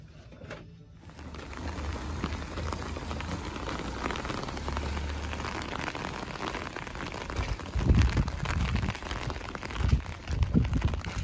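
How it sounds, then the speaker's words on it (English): Heavy rain pours down steadily in a dense, hissing patter on hard surfaces, heard from inside a car, with occasional louder thuds of drops near the end. "it's now started pouring with rain"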